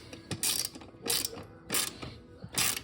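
A ratchet tightens a motorcycle exhaust bolt, giving four short bursts of rapid clicking separated by brief pauses, close and clear over a quiet workshop background.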